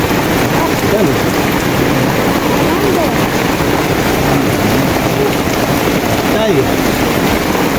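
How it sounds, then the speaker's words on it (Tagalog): Heavy typhoon rain pours down on a fishing trip, a loud, dense, unbroken hiss of drops on the surface with no letup. "Ang ulan."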